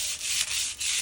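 Dry sandpaper rubs back and forth over a surface between finish coats in three quick, close, rasping strokes with short pauses between them.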